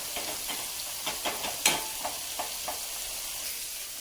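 Paneer masala gravy frying in oil in a pan while a spoon stirs it, a soft steady sizzle broken by several light scraping strokes and one sharper clink midway.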